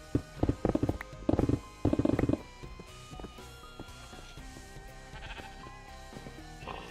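Sheep in a Minecraft-style video game bleat in a quick burst of several rapid calls, then fade under steady game background sound.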